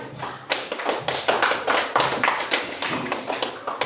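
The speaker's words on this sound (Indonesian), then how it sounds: "tepuk tangan untuk kelompok 1" A school class claps for a student group's presentation, a steady run of dense, quick hand claps at close range that holds for several seconds without speech.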